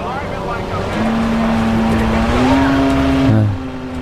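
A car driven in the video game Watch Dogs roars steadily nearby, its engine pitch climbing gradually before dropping abruptly as the revs fall away.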